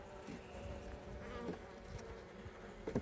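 Honeybees drone at a hive being readied for winter, a steady close buzzing swarm with individual insects passing near, lasting the whole stretch without talk.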